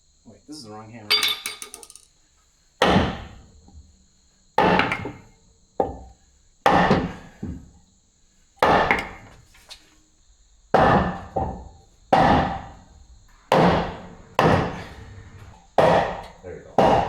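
Heavy metallic hammer blows strike one after another at a steady pace during heavy equipment repair, driving out a bolt, each ringing briefly, close and loud.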